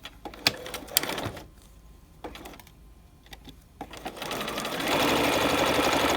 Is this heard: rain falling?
no